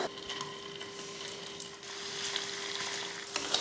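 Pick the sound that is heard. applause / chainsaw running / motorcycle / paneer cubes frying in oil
paneer cubes frying in oil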